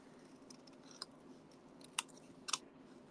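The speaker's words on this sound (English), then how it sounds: "So I'm just going to go with my snips. And I'm just going to trim off this bottom part" Snips trimming the bottom edge off a papercraft pop-up card, producing a few faint, sparse cuts, two of them sharper clicks near the end, in a quiet room with no talk.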